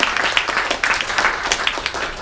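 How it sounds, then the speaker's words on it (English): Conference audience applauding after a Redis talk, a dense, steady patter of many hands clapping, fairly close and filling the room, with no voices over it. "a great big round of applause to Dave Nielsen"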